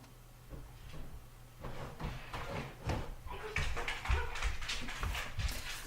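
A dog whines softly to be let in, while scratching and bumping sounds come from a door nearby; all fairly quiet.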